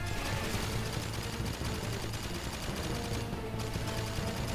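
Rapid bursts of gunfire in Jak & Daxter on PSP, sustained and dense like automatic weapons, loud and continuous with a busy synthetic-sounding background.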